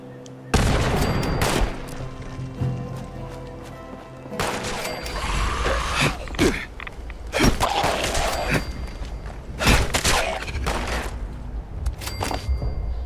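In the Fallout 76 video game, a thrown grenade goes off in a loud blast, followed by a rapid string of further sharp explosive bursts and gunfire-like cracks spread over several seconds.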